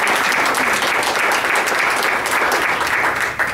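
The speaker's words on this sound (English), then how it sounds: "give yourself a round of applause for that" Applause from an audience at a Penn State Schuylkill alumni chorale event, a dense, loud, steady wash of many hands clapping throughout, easing slightly at the very end.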